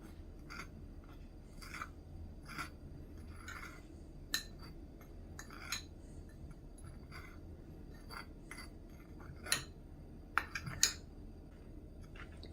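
A fishing bait mixture is stirred thoroughly with intermittent scrapes and a few light clinks of a utensil in a bowl, close up and unaccompanied by speech.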